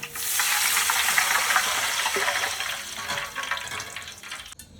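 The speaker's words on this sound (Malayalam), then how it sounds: "ഒരു 2 ലിറ്റർ വെള്ളം നമുക്ക് ഒഴിച്ചു കൊടുക്കാം" About two litres of water poured into a cooking pot for a prawn biryani with 1.5 kilos of rice, a loud steady close splashing gush that fades out after a few seconds.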